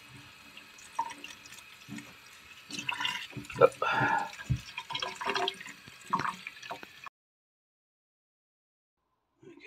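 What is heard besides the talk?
water rinsing a K&N motorcycle air filter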